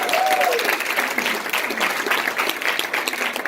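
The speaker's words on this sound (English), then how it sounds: "Give them a big round of applause." An audience at a training session breaks into sustained applause, a dense even wash of clapping with a brief whistle or voice near the start.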